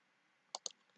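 A mouse clicked in AutoCAD, two quick close clicks in rapid succession, crisp but quiet against near silence.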